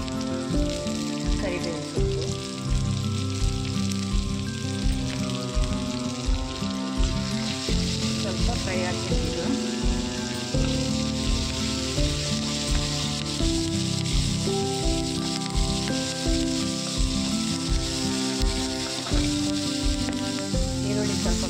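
Onions sizzle in hot oil in a pan for Udupi-Mangalore style chicken sukka, a continuous close frying hiss with rhythmic stirring clinks underneath.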